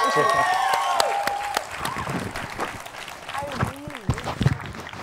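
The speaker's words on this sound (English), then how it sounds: "Simon, big round of applause." Audience applause at the Jaipur Literature Festival closes a talk, with sustained clapping filling the hall while a speaker's voice continues over it near the microphone.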